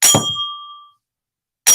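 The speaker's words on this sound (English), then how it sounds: "This is a grand set of cups. They sound like bells." A heavy copper magic cup is struck once, ringing loud and bell-like close by with a clear sustained tone that fades over about a second, then a second strike begins.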